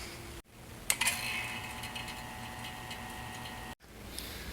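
A vacuum pump hooked through a gauge set to the air conditioning system of a Peterbilt 359 truck starts with a click and then runs with a steady, even motor drone and faint ticking, with no talk.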